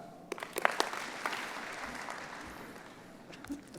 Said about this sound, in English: A few people did a few more than 2 claps,